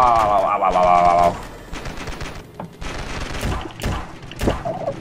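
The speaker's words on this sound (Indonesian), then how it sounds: "Siapa itu nembak keras sekali suaranya itu?" Bursts of rapid gunfire in the game Ravefield during a battle to capture a snow fort, with sharp shots scattered throughout and a tonal game sound at the start, and someone talking over it.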